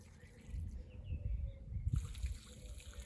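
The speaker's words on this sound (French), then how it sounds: "Vous pouvez arroser un peu plus abondamment" Garden plants being watered in spring, a soft trickling and dribbling stream of water onto soil, fairly faint and close, with a brief change partway through.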